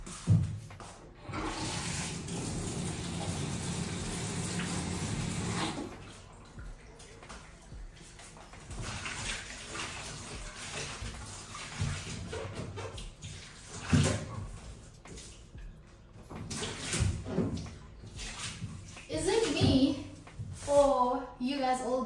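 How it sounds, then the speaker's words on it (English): Running water fills and rinses a hotel bathtub, a steady broad rush that stops partway through, followed by quieter knocks and movement, with a person talking nearby. "Rinse the bathtub first before I use this."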